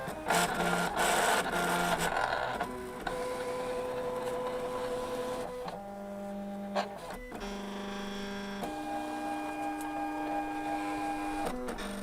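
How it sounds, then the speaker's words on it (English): A Silhouette Portrait 3 cutting machine reading registration marks and calibrating its cutter, whirring motor tones that shift pitch in stepped runs with brief pauses and mechanical clicks, close and fairly quiet, with no talking. "It's reading the registration marks. Now it's getting the cutter calibrated."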